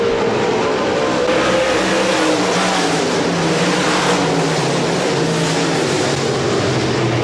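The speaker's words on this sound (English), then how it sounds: "We're going back to green in the USRA Stock Car A feature." USRA Stock Car A feature cars race on a speedway, a dense continuous roar of several engines revving hard and droning loudly throughout.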